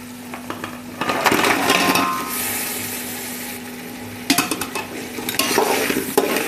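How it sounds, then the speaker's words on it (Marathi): Crabs stirred and fried in hot masala for a spicy crab curry, with a continuous loud sizzle and clattering spoon scrapes that come in bursts, close by and alone. "मसाल्यात फ्राय करून घ्यायचे."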